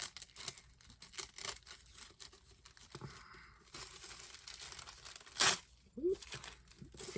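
Paper wrapping with a sticker being carefully pulled and torn away from a new book, giving close, dry crinkling and tearing bursts with a sharper rip near the end and a brief voiced hum.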